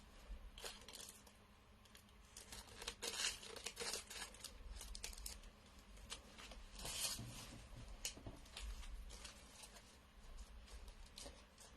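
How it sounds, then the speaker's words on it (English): Scissors snip and crinkle through thin plastic, a string of close, irregular cutting and rustling bursts at a low level with no talk. "use these scissors to cut through the plastic."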